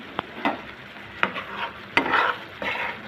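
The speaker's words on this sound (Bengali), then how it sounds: "ভালো করে নাড়িয়ে নিব।" A spoon scrapes and stirs mustard hilsa curry with green chillies in a pan, several uneven strokes over a soft sizzle, close and fairly quiet.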